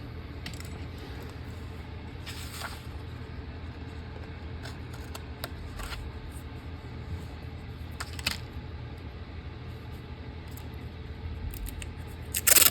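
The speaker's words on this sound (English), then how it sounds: "Scissors." Scissors cut paper during an art journaling session, giving scattered short snips and rustles over a quiet room background, with a louder clatter at the very end.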